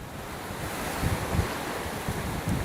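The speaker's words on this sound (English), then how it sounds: "the howling of the wind has been pretty consistent here throughout the night" Steady roaring hurricane wind buffets the microphone with a constant broadband rush and low gusty rumbles, loud and unbroken, with no voices, during Hurricane Milton in Florida.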